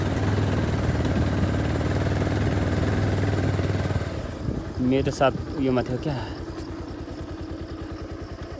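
A motorcycle engine runs close by, rumbling steadily, then drops to a rougher idling putter as it loses pickup while low on fuel, with a rider talking over it.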